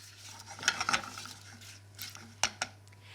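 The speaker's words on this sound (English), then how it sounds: "Now for some sweetness, caster sugar, we'll add that and give it a mix." Apples and mixed berries are stirred with caster sugar in a pot, heard as a few quiet spoon scrapes and soft clinks against the pot in a hushed kitchen.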